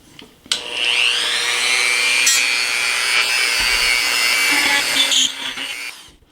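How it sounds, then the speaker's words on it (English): Drill bit pushing through soft plaster into the wood beneath, a sustained whining grind running steadily for about five seconds, close and loud, then stopping, with no talk over it. "because it is wood all underneath it, you can hear and feel the minute that you hit the wood, because the plaster is pretty soft"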